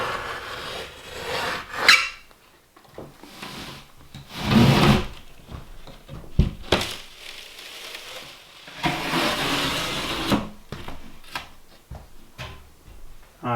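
Building material being cut during cabin wet-bath prep, several separate bursts of rasping, scraping strokes between quieter pauses, close and fairly loud with a few sharp clunks.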